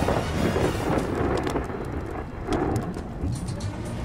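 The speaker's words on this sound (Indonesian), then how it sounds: "langit yang semula cerah, tiba-tiba digantikan hujan rintik-rintik yang mulai mengguyur tempat itu" Steady rain falls with rolling thunder rumbling through it, a dense, continuous storm sound with low booms swelling and fading, no voices.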